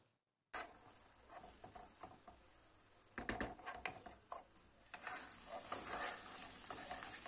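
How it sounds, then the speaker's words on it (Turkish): Onions frying in oil in a pot while being stirred, a sizzle that starts after a brief silence and grows louder and denser, with scraping stir strokes, with no talk. "Soğanları bu aşamada çok güzel bir şekilde kavuralım"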